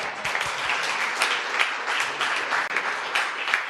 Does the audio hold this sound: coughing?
no